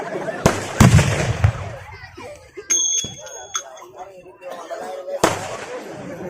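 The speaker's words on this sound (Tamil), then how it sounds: "வெடி வெடிக்கிறாங்க வாடா" Firecrackers burst in a few sharp, loud bangs spread across the scene: two close together near the start and another later, with people talking and shouting in between.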